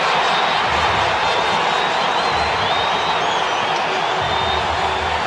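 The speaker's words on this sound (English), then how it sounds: "Doesn't the crowd enjoy that?" A cricket crowd roars for a four pulled away off fast bowler McGrath that raises a 100 partnership: a dense, steady wall of cheering that holds loud and even throughout.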